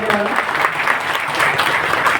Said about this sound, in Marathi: तर एकदा स्वतःसाठी जोरदार टाळी झाली पाहिजे.